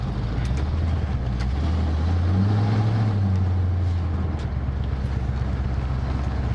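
A low, steady Ford F-150 pickup engine rumble idles close by, its pitch swelling briefly as it revs, with a constant wind-like roar over it.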